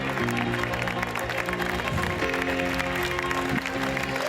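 Audience applause for Boris Johnson at a Conservative party conference, a steady dense wash of clapping from a large crowd filling the hall throughout, with low musical tones running beneath.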